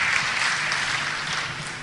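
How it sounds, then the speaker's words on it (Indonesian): Congregation applauding during a church service, a dense wash of clapping heard briefly and steadily throughout. "Tepuk tangan buat Tuhan kita Yesus Kristus"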